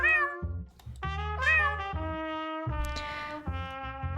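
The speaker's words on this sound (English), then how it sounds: "I can pet the cat though." A cat meows several times when petted in the video game Judge Simulator, each call clear and close over steady background music.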